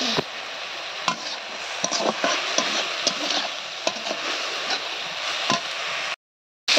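Spices being stir-fried in a pan during home cooking of egg and potato dishes: a steady close sizzle with repeated spatula scrapes and clicks, then a brief silent gap near the end.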